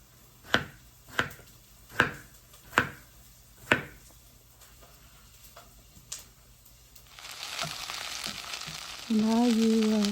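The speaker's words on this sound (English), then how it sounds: "Now you saute the onion a little bit, brown, crispy." Onion hits a hot pan for a stir-fry of eggplant and eggs and starts sizzling, a loud steady hiss that builds near the end. Several sharp knife chops on a board come first, followed by a rising, bubbling fry.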